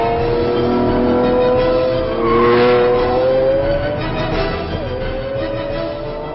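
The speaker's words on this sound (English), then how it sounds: "from a moderate rumble through the town at low revs to the screaming crescendo of maxed" A Lamborghini Aventador V12 engine revs and rises in pitch, swelling to a loud, strained whine before dropping back, heard continuously and fairly close.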